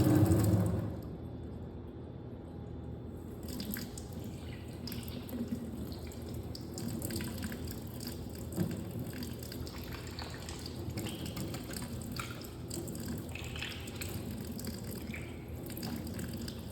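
Kitchen faucet water running steadily to rinse a removed aerator, a continuous close hiss of flowing water with slight splashing variations, after a brief louder start.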